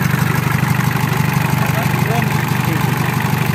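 A Ford Ranger or Mitsubishi Triton pickup engine idles steadily with a low, even rumble that holds throughout, close by.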